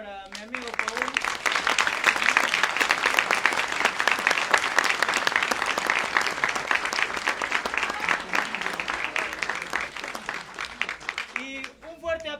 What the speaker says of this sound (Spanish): quiero un fuerte voto de aplauso, por favor, para mi amigo Paul